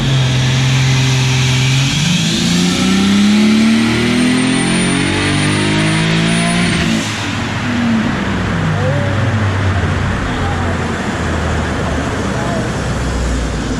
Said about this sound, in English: the turbo sounds crazy